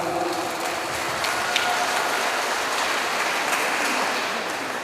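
Steady applause from the audience at a university inauguration ceremony in Muna, a continuous even patter of many hands that holds at moderate level throughout.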